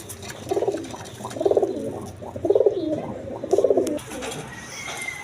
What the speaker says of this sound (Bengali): আপনার রাজগোল্লা কবুতর